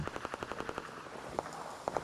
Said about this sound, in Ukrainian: Це стріляється там.